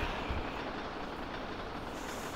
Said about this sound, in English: going out the rails on a crazy train